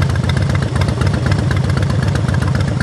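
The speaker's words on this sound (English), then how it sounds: "It's the muffler, the rev of the exhaust." A Harley-Davidson Dyna motorcycle engine revs through its exhaust muffler, a steady, loud, close rumble with a dense low throb that holds for about three seconds, with no voices.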